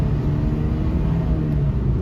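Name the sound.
Maruti Suzuki Brezza engine revved at full throttle in neutral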